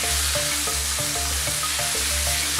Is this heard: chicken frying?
yes